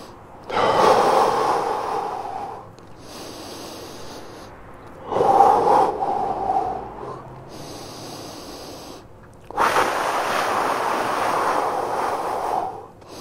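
Slow, deep breaths taken while holding a stretch position during an exercise session, three long close-up inhale and exhale swells separated by quiet pauses.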